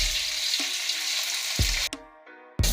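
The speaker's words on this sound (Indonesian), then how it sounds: "Ini minyaknya kebetulan udah panas, kita goreng ya." Meat frying in already-hot oil for a Chinese-style dish, a steady loud sizzle broken by a few sharp clunks of utensils against the pan, the sizzle briefly dropping away near the end.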